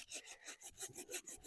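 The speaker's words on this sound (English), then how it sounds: "I'll use this handsaw" A small handsaw rasps back and forth through a young shrub stem during pruning of a multi-stemmed shrub, with steady repeated strokes, close and moderately loud.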